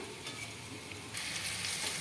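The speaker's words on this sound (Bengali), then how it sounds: "এই যে এখানে পেঁপে আলু ভাজা হচ্ছে" Chunks of papaya and potato fry in oil with a quiet, continuous sizzle that grows brighter and louder about halfway through.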